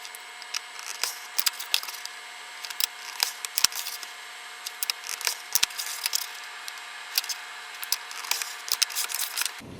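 Mat board for a photo frame is cut by hand, and a close, quiet run of short scraping and slicing strokes repeats at an uneven pace throughout with no talking.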